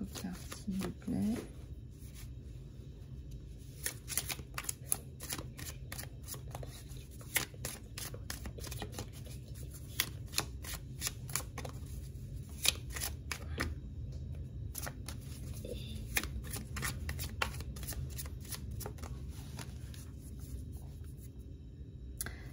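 Tarot cards are shuffled by hand in a quiet room, producing a long run of soft, rapid riffling and flicking sounds with small bursts, set close and faint over a low background hum.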